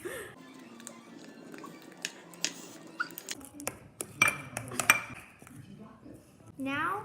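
Slime is mixed in a bowl, and a utensil clinks and taps against the bowl in an irregular run of light, close knocks. A voice says a brief word.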